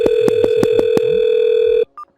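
A call tone from the MicroSIP softphone on a virtual VoIP network sounds as a loud, steady electronic tone with regular pulsing clicks. It cuts off abruptly and is followed by one brief beep.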